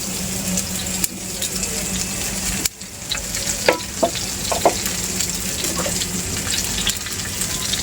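Okra, drumstick and potato frying in a pan on a clay stove, a steady close sizzle with scraping stirs and a few clinks, no voices.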